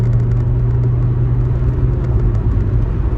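Close, heavy road rumble from a car in motion, with a steady low engine drone and tire noise throughout and no one talking.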